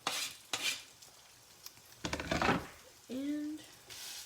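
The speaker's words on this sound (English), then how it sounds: "Take your spatula and just scrape all the excess potato because you don't want to waste food." A spatula scraping grated potato around a hot buttered pan for hashbrowns, in short rasping strokes and stirring clatters between pauses, close by, with a brief voice-like tone near the end.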